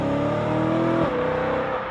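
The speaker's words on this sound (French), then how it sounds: "Donc c'est un V8 qui prend beaucoup de tours, pas loin de 9000 tours." A 4-litre 420 hp high-revving V8 car engine with a seven-speed dual-clutch gearbox, roaring loud and close as it climbs, then dropping pitch abruptly at a gear change and pulling on again.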